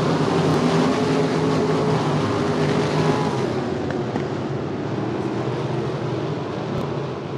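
Non-winged sprint cars race at Cedar Lake Speedway in a loud, continuous engine roar, several cars droning together as the pack spreads across the dirt track, with no voices over it.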